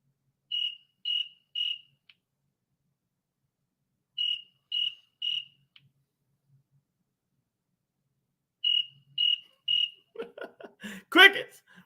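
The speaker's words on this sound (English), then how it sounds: "Crickets. We hear crickets." Crickets chirp in evenly spaced bursts of three sharp pulses, repeating several times with quiet gaps between, before a brief rush of other sound closes it out.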